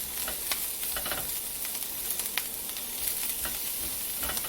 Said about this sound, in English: I'm going to saute this lightly.